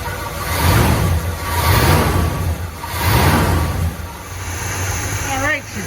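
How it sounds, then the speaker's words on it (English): A Chevrolet Chevelle stock 350 with a Rochester four-barrel carburetor revs in several rising and falling surges over a lumpy warm idle, close and fairly loud, with a voice speaking over it. "I can hit the gas"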